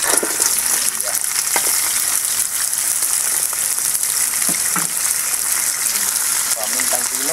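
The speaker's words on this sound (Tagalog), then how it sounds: "Naigisa na po natin yung ating alimasag fried." Crabs sautéing with onions in hot oil in a pan, a constant loud sizzle with occasional stirring scrapes, heard close up.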